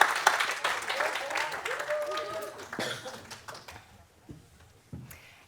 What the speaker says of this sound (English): we can give them a large round of applause